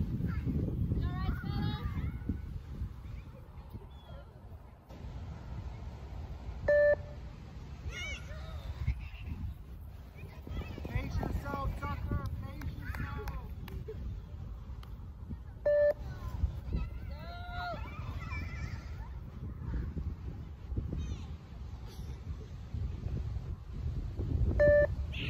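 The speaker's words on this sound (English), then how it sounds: "the beeps are gonna get quicker" Short electronic timing beeps of a beep fitness test sound at intervals over continuous talk and movement noise, with a few quick bird-like calls also present.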